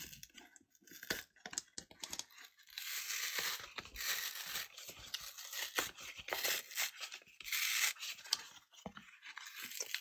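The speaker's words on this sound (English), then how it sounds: "start from the top and just start peeling this paper" The paper layer is slowly peeled off corrugated cardboard for a collage texture, heard as a faint, continuous crackly tearing and scratching. It runs on for several seconds with uneven bursts and no talking.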